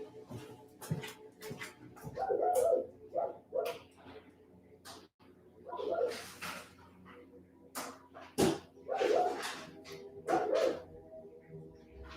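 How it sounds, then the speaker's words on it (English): A dog barks in a series of short, moderately loud bursts indoors, with pauses between them and faint background noise throughout. "I don't think you wanted to hear my dog barking"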